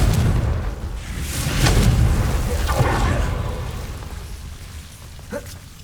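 A Confringo fire spell from Hogwarts Legacy bursts in a loud, rumbling blast, followed by a crackling, rain-like fiery hiss that slowly fades, ending with a brief sharp whoosh.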